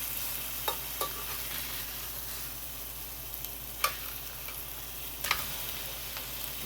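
Pork chops browning in an electric skillet give off a steady, even sizzle throughout, with a few faint clicks and light scrapes rising above it and no voices.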